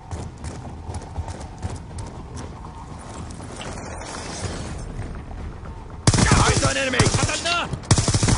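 Call of Duty Black Ops 2 gameplay gunfire comes in a loud burst of rapid automatic shots in the last couple of seconds, after quieter game noise.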